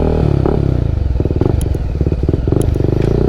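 A Kawasaki NK250 motorcycle fitted with an Akrapovic exhaust idles close by with a deep throbbing pulse, broken by a few short throttle blips and light mechanical clatter.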